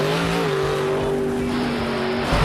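Toy monster truck number 18 roars through a jump with a loud, sustained engine whine that holds steady pitch, then shifts slightly as it lands, dominant and close with no talk.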